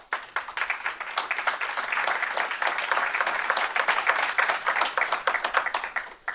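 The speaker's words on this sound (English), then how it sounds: "A huge round of applause, please." An audience claps in a steady, dense round of applause, sustained for several seconds without a break.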